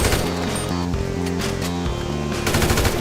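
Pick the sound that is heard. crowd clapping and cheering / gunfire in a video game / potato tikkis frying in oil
gunfire in a video game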